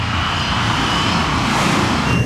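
Engines of an Avianca 052 heavy airliner roaring steadily at high power as it pulls up violently in a missed approach, a loud, continuous broadband rumble with no break throughout.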